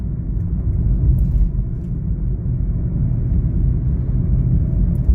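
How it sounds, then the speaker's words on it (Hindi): A car holds a steady 60 on cruise control, its engine and road noise forming a loud, constant low rumble from inside the cabin with no speech. "अब गाड़ी मेरी 60 पे ही चलती रहेगी"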